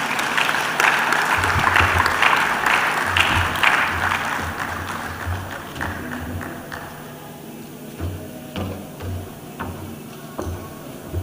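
Audience applause at an employment summit in Lagos, starting as a full, loud burst of clapping that gradually thins into sparser individual claps with a low rhythmic thumping underneath.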